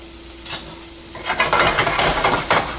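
Onions hit hot corn oil in a pan, the quiet start bursting into a loud, crackling sizzle with bursts of stirring and spatula scrapes, close and without voices.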